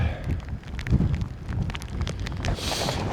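Gusty wind buffets the microphone on a wet, breezy Lake District fell walk near Raven Crag and Grange Fell, loud uneven rushing with clattering knocks and a stronger hiss near the end.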